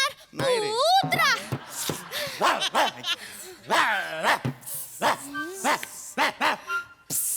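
A voice imitates a dog with a run of short, pitched yaps and barks during a Marathi comedy skit, close and loud, with other voices and snickers mixed in.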